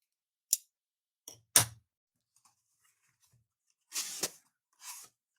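A sports card mail package is cut open in a few short, sharp snips and scrapes, scattered with quiet pauses between them, close and isolated with no talking.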